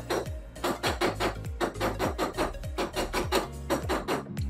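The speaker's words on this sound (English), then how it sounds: "what I'm going to do with the crescent wrench is essentially hammer it down so that it seats completely over our coat shield terminal" Repeated metallic hammer strikes drive a crescent wrench down onto a coil shield terminal while installing a Universal V upgrade kit, a steady rhythm of sharp clanks, close and loud, with no talking.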